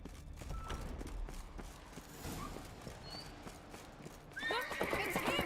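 Video game horse hooves clip-clop along steadily, then a horse whinnies loudly near the end, with faint creaks and a low background rumble.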